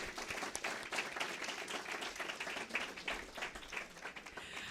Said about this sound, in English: Let's start with a big round of applause for all of you